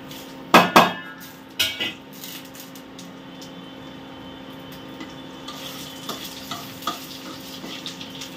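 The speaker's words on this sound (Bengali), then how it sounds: "আর এর মধ্যে আমি দিয়ে দেবো ফোড়ন।" Dry chili, cumin seeds and bay leaf hit hot oil for a khichdi tempering, with a few loud sharp crackles and spatters up front, then a softer ongoing sizzle with scattered pops and a spoon stirring.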